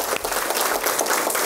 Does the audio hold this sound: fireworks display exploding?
no